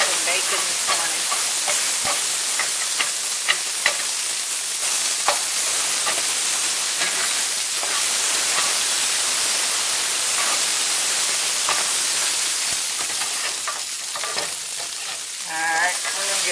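Eggs and bacon frying in a pan at a cabin breakfast, a steady loud crackling sizzle with scattered pops that runs throughout, a voice faintly present at times.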